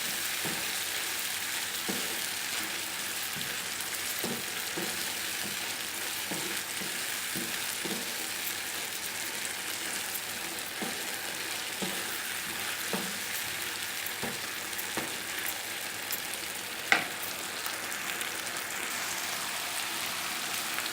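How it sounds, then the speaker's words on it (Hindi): Rice with chilli garlic sauce cooks on a high flame, giving a steady hiss of frying with faint periodic stirring taps and one sharp clink, even and close. "हाई फ्लेम पे अब आपने इसको पकाना"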